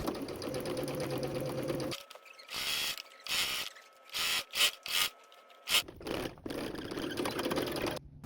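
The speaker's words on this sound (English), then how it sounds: "It's a little tricky to start off the sewing here, but just sew all the way down that waistband." Sewing machine stitching down the waistband of a plaid overskirt, running in a steady mechanical buzz, then stopping and starting in short bursts with fabric rubbing and handling sounds between runs.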